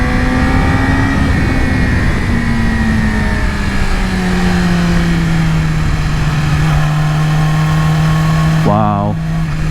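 A 2020 Yamaha R6 sport motorcycle on twisty mountain roads holds a steady engine drone with gradual pitch shifts as it rides, close and loud, under wind noise, with a brief rev change near the end.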